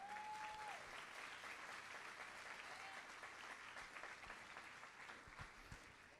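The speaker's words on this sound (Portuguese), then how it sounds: "Aplauda melhor, vamos lá, vamos." A large church congregation applauds steadily for several seconds, a dense wash of clapping that stays even throughout.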